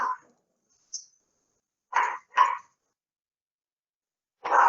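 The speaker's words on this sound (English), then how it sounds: "The dogs are barking." Dog barking in short separate bursts: a brief yip, then a close double bark, then a final louder bark after a pause, with no talk over it.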